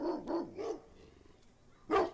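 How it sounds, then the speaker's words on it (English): A pet dog named Sunshine barks excitedly indoors: three quick close barks in a row, a brief pause, then one more loud bark, with no voices. "my dog Sunshine running into my room, barking like crazy"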